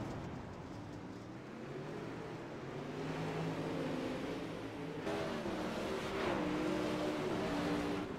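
Super late model race cars on the Williams Grove oval, their engines droning and rising in pitch as the pack roars through the turns, loud and continuous.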